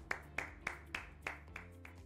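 Slow, evenly spaced claps ring out at a corporate function as a speaker is welcomed, about eight distinct hand claps in a steady rhythm rather than full applause, moderately faint.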